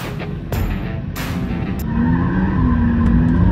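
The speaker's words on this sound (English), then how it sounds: "I think Alex was doing a burnout." A Dodge Demon 170 doing a burnout, a loud, rising engine roar with squealing tires, mostly continuous and building through the clip.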